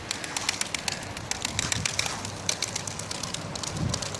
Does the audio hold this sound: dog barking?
no